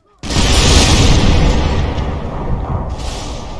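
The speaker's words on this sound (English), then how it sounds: "Cannon fire." Cannon fire sound effect played during a Napoleonic board wargame, a sudden loud boom that cuts in abruptly and decays into a sustained rumble, with a second swell near the end.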